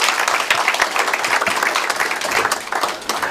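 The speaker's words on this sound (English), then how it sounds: "A round of applause for our peers." Applause from an audience at a corporate report presentation, dense continuous clapping from many hands, loud and close, filling the whole moment.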